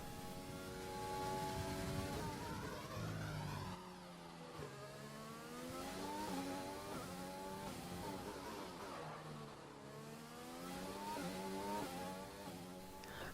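Race car engine on a fast qualifying lap of Baku in a racing video game, revving high and dropping through gear changes in repeated rising sweeps, steady and alone.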